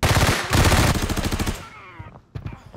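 Automatic fire from a VSS rifle in the video game Arena Breakout comes in loud, rapid bursts that then die away, and a few scattered shots follow near the end.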